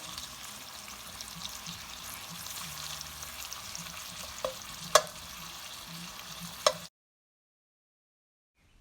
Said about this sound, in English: While that is frying